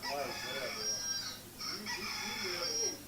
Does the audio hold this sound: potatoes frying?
no